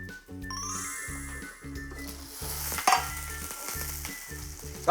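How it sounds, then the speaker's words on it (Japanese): Oysters sizzle while pan-steaming in a frying pan, a constant crackling hiss heard under rhythmic background music, with a couple of sharper pops near the end. "そしたら蒸し焼きにしていきます。"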